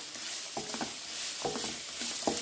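Onions and cabbage sauté in a hot pan under a constant broad hiss, with three short scraping stirs of a spoon against the pan at roughly even intervals.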